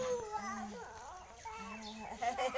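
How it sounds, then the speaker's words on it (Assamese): A chicken clucks in a string of short, fairly faint calls close by, with a bit of background noise. "এইটো মুৰ্গী"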